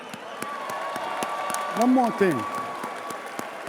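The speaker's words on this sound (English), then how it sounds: "Give y'all a hand clap before y'all go" Boxing fans applaud at a fight night: scattered hand claps run under someone speaking briefly up close, with a short vocal exclamation in the middle.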